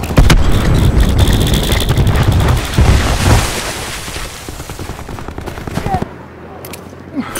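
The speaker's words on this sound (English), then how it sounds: "Cluster grenade going out." Bursts of rapid gunfire and cluster grenade explosions rattle through a Call of Duty: Black Ops 4 match, loud and dense at first, then thinning into scattered shots before falling quiet.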